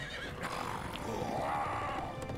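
A horse neighs in the Lego Lord of the Rings video game, a drawn-out whinny over a busy game soundtrack and background effects.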